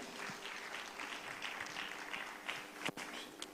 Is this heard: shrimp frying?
no